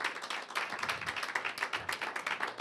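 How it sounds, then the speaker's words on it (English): An audience applauds steadily throughout, a dense patter of many hands clapping at moderate volume with no talk on top. "You ought to give yourselves a round of applause just for showing up."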